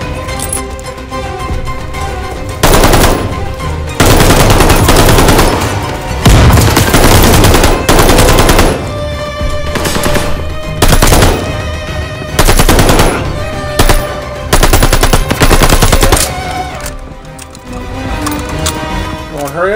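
Loud machine gun fire in the Call of Duty Vanguard video game set in Stalingrad, coming as repeated sustained bursts of rapid shots close up, with game sounds and a voice between volleys.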